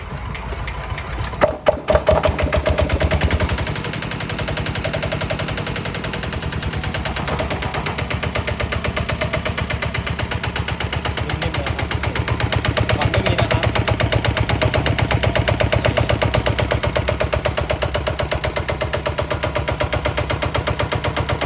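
Old Japanese Kubota EA8 single-cylinder diesel engine, hand-cranked with a few clattering turns before catching, then running at a steady rhythmic chugging idle, close and loud.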